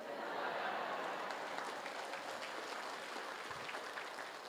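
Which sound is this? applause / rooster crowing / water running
applause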